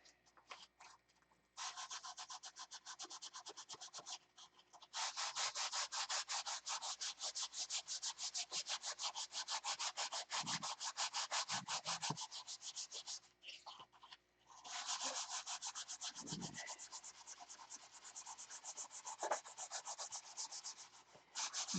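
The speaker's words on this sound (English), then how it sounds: "It's gonna take a while to get that sanded in there." Hand sanding of wood gives long stretches of steady, rhythmic rubbing and scraping, with short pauses between passes, close and fairly quiet.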